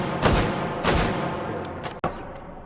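AK rifle mod in the H3VR virtual reality shooter firing a few separate, punchy shots spaced roughly half a second to a second apart, loud and close, with a sharp final crack near the end.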